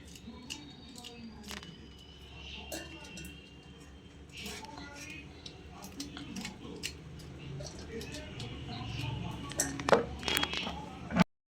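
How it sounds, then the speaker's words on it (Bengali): Bitter gourd being sliced and its seeds scraped out in a home kitchen, heard as scattered soft crisp cuts and clicks at close range over low background noise, with a louder burst of cutting near the end. "আমি উচ্ছেটাকে কাটছি"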